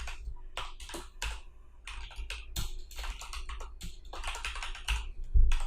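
Rapid, irregular clatter of keys on a computer keyboard while CSS code is written, close and clear, with bursts and short pauses and no talk.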